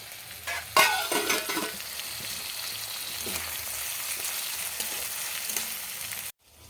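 Spices sizzle and fry in a hot pan for khichuri, a steady close crackling hiss with a brief louder burst near the start as they hit the oil, cutting off abruptly near the end.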